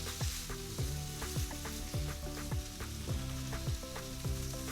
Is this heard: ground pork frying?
yes